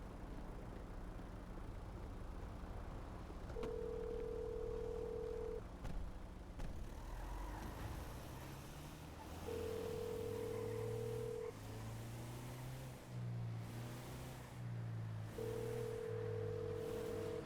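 During a phone call in a video game, an unanswered ring tone repeats three times in even, steady bursts, each about two seconds long with long gaps between, over a constant background hum.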